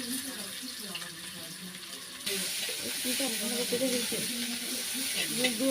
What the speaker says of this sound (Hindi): तेल गरम हो गला पियाज देले